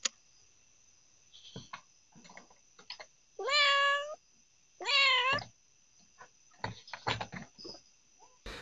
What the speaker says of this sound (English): Cat's tripping off of catnip.